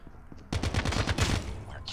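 Rapid automatic fire from an ICR Dark Matter rifle in Call of Duty Mobile, a tight burst of roughly ten punchy shots after a quiet start, loud and close with a brief tail.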